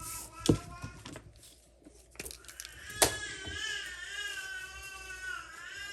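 A baby cries and whimpers in fussy bursts nearby, fairly faint, with some background clatter.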